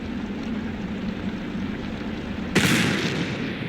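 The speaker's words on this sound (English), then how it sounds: "Sounded like a gunshot." A single sharp bang from a firework or gunshot in the video game Black Mirror 3 bursts out abruptly after a quiet, low ambient hum, then leaves a lingering noisy wash.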